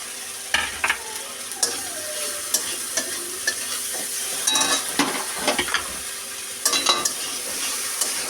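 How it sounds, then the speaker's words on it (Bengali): Chopped green chillies, turmeric and spices frying in a pan for a shrimp and Malabar spinach dish, a steady close sizzle broken by regular sharp scrapes and clinks of a spatula. "দিয়ে একটু ভেজে নেব"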